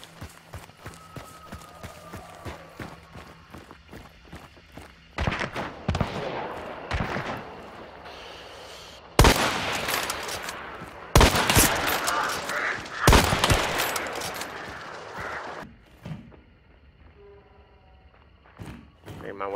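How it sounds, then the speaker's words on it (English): Gunfire in a shooting video game comes as bursts of sharp, loud shots in clusters, with footsteps and movement between them and a voice speaking at times. "She's shooting at me."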